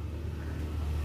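Suzuki Carry 1.0 engine with a dead spark plug runs rough, giving a low, continuous uneven rumble at close range with no talking.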